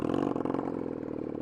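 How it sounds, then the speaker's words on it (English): A motorcycle engine running roughly, a loud, close, continuous drone with an uneven, pulsing beat throughout. "Why do I expect this bike to ever sound healthy?"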